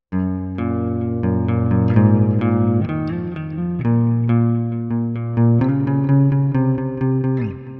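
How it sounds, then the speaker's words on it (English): A clean electric guitar plays a repeating riff of ringing single notes and chords, bright and clear with no voices. "that clean guitar sounds like this"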